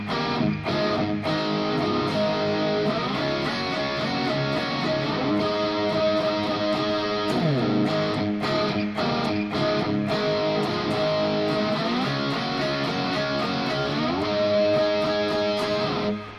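A distorted electric guitar plays a riff in A, with chugging chords and bent notes running continuously, loud and alone.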